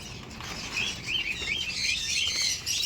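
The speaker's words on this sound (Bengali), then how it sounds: "পাখির খাঁচার ভিতরটা দেখুন" Small caged pet birds such as budgerigars and lovebirds chirp and tweet busily in an aviary, the bright overlapping calls continuous and fairly close, with light wing flutters mixed in.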